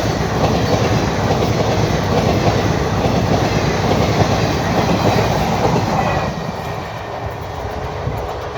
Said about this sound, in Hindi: ये सरयू यमुना स्पेशल आ गई, एक व्यू इसका भी।